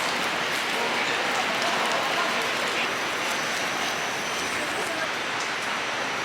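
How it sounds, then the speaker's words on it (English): Steady, dense hiss of rain falling on a surface near Haedong Yonggungsa temple in Busan, Korea, continuous and fairly loud throughout with no clear voices. "It's raining."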